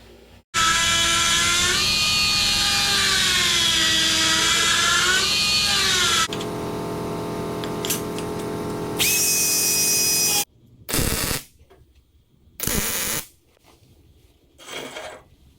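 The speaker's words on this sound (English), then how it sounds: "I'm using a carbide cutter mounted in a die grinder to square up the cut" A die grinder fitted with a carbide cutter squaring up a plasma-cut edge on steel: a loud high whine that wavers under load for several seconds, a lower-pitched run, then short on-off bursts with quiet gaps.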